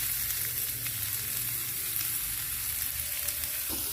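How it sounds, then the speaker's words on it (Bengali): Chopped onion frying in hot oil with dried red chilli and bay leaf, a steady close sizzle with a continuous crackling hiss throughout and no talking. "এবার পেঁয়াজটাকে একটু ভালো করে লাল করে ভেজে নিতে হবে।"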